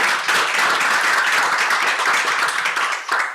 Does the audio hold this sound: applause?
yes